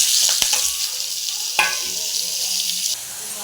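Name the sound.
tomatoes and whole garam masala frying in a pan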